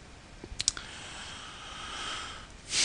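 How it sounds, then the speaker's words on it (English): A computer mouse gives a few quick, close clicks in a short cluster, then quiet room tone follows with a rising hiss at the very end. "Once you've entered the name, click the Next button"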